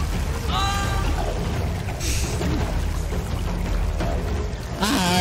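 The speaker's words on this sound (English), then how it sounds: "Wait, I can just throw you guys into the water." Characters tossed into water in Blade and Sorcery hit the surface with a few splashy, pouring bursts over a steady background rumble of in-game ambience.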